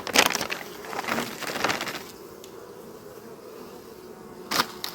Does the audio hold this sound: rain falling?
no